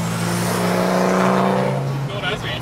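A car roars past close by at a skid event, its engine note sustained and loud before fading away, with voices talking underneath.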